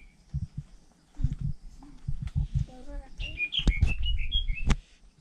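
Birds chirp and whistle in short bright phrases near a village at Cherrapunji, close by, mixed with footsteps, thumps and a voice speaking in the background.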